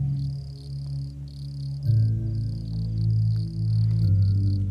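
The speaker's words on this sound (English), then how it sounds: "the ever-increasing chorus of crickets" Night insect chorus of crickets beside a gravel road, a continuous high shrill trilling that stays steady under a fuller low hum that swells partway through.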